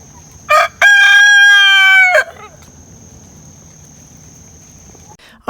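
A rooster crows once, loud and close, with a short cluck before it, then faint background insects and a steady high tone carry on afterward.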